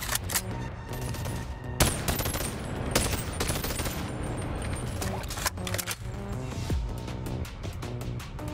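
Gunfire in the VR shooter Bonelab, with rapid bursts of sharp shots and clattering impacts repeating throughout, loud and close, with occasional mechanical clicks between volleys.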